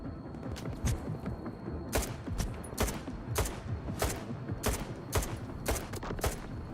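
Gunfire in STALKER 2 cracks out in a rapid, uneven string of about a dozen sharp shots, some in quick pairs, loud over a steady low rumble of combat.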